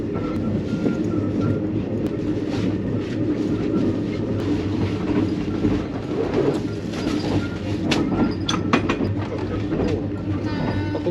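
An overnight sleeper train from Bangkok to Chiang Mai rumbles along with a steady low drone and occasional clacks and squeaks, heard from inside the carriage.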